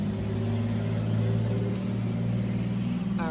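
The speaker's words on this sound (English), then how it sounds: "I have to wait to let this like super large truck go by" A very large truck rumbles past close by in Texas, a steady loud low engine drone holding throughout with no talking.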